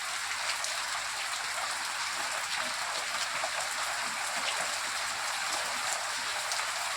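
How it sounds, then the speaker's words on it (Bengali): Heavy rain pours down steadily outdoors, a dense continuous hiss of drops on surfaces that stays loud and even throughout with no voices. "আকাশটা দেখো কত সুন্দর, ঝমঝম করে বৃষ্টি পড়ছে।"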